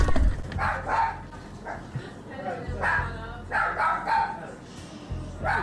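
Dog barks and whimpers from a played-back recording, recurring in short bursts beneath continuous talking; the barking is moderately loud and mixed with the voice throughout.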